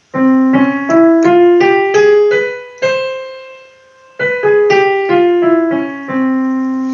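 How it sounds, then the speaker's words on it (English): Piano notes climb one by one up a Carnatic scale, hold a sustained note, then step back down, each tone clear and ringing with no voices. "the scale on the temperate system of a piano sounds like this"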